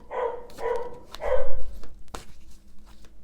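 A small dog barks three times in quick succession nearby, sharp yaps followed by a short whine and a low thump, then a few softer sounds as it settles.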